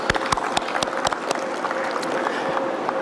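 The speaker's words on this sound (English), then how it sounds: "I just want you to just give yourself a very round of applause." Applause from an audience of farmers and agro processors at a consultation meeting, sparse but steady clapping, with a few sharp claps standing out from a softer, scattered crowd patter.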